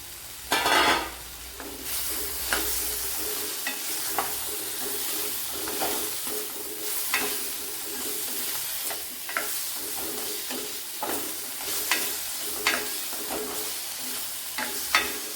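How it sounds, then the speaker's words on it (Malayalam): Okra, onion and tomato sautéing in a pan, a continuous sizzle punctuated by regular sharp scrapes and clinks of a spoon stirring, close up with no talking. "ഒരു സവാളയും തക്കാളിയൊക്കെ വഴണ്ട് വരണം നല്ലതുപോലെ"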